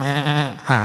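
A voice imitates a sheep bleating in a church service, one wavering, nasal baa that dips briefly and then swells again, loud and close with no other sound.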